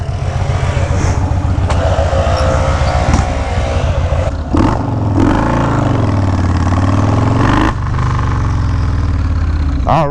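A motorcycle fitted with a Graffeo 2-in-1 Powerhouse exhaust pipe pulls away on a ride, its loud, close exhaust rumbling through repeated revs and gear changes, rising and falling in pitch.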